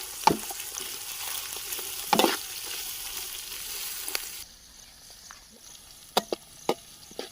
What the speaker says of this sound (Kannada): ಇವಾಗ ಈರುಳ್ಳಿ ಹಾಕ್ಬಿಟ್ಟು ಚೆನ್ನಾಗಿ ಫ್ರೈ ಮಾಡ್ಕೊತೀನಿ